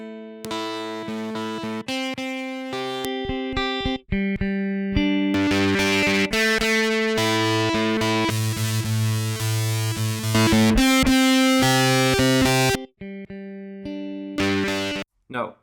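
A distorted guitar riff played through amp emulation presets, one of them a rock amp setting, rings out loud and sustained as held notes shift pitch, with brief gaps and a pause near the end.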